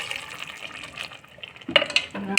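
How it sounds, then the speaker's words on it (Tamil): Water splashes and gurgles as it is poured into a pressure cooker holding sprouted lentils for a sprouts gravy, a close, fairly loud fill that grows choppier toward the end. "இப்போ தேவையான அளவுக்கு தண்ணி விட்டுக்கலாங்க"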